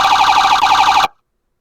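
A Roblox ELS priority siren tone, a loud, rapidly warbling electronic wail held steady for about a second before cutting off abruptly into silence.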